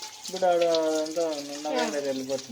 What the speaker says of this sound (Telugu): ఇలా చిల్లులు దాంట్లో వేసుకున్నాం కదా ఇలా కడుక్కోవాలి